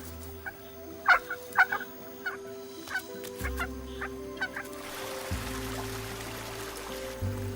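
Hungry wild chicks call insistently for food in a quick run of sharp, bright chirps that come in bursts, then fade under a low rumbling background.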